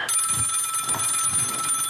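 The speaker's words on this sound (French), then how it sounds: "Et c'est quoi ça? Un téléphone." A telephone rings with a bright, steady electronic trill lasting about two seconds, close and clear with no talking over it.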